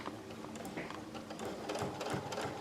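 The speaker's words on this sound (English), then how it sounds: "now we're going to see if we can sew straight." A sewing machine fitted with a dynamic walking foot stitches at close range, a quiet rapid mechanical patter that gradually builds in speed and loudness, with no talking.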